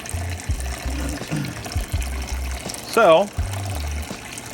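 Water pumped at full blast through Dutch bucket irrigation lines makes a steady low pump hum and a rushing flow, with a brief voice speaking over it partway through.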